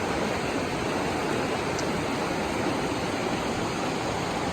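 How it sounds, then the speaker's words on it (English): White water in a lowland river rushes as a constant, loud, broadband roar with no breaks, heard close by. "And this white water isn't gonna go away anytime soon"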